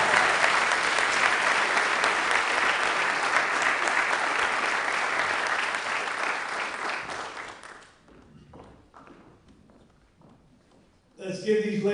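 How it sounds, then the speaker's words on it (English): At the 2025 NESTPY sports awards ceremony, a hall audience gives loud, sustained applause for female athletes that gradually fades after about eight seconds into scattered claps, before a voice returns at the end. "Let's give these ladies another big round of applause."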